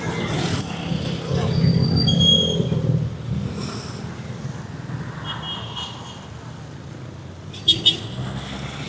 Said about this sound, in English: Squeeze through the jeepney and the cars.